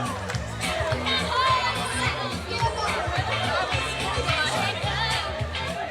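A crowd of students at a school athletics carnival chatters and cheers, a lively busy wash of many voices with shouts rising above it, and music thumping underneath.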